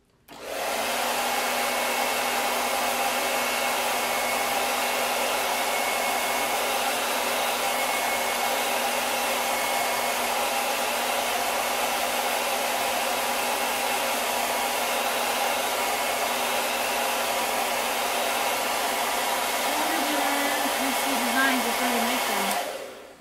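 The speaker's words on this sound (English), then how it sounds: "Let's blow dry it." A hair dryer blow-dries chalk paint on a handmade Nut House sign, running as a loud, steady close whirring roar for about twenty seconds and cutting off at the end, with no talk.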